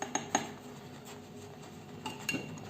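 A spoon stirs thickening milk in a metal pot on the stove, giving a few faint clinks and scrapes against the pot at the start and near the end over a quiet kitchen background.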